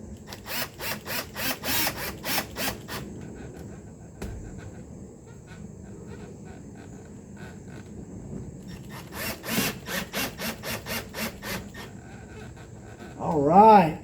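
Screws being driven in to reattach the sun visor on a 1983 Mercedes 300D, rapid bursts of buzzing driver clicks in two runs separated by a quieter stretch, close by, with a voice speaking near the end.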